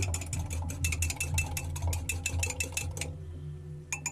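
Eggs for a banana cake whisked in a bowl, a fast regular clicking rattle of the whisk against the sides, close and continuous for about three seconds before stopping, over a low background hum.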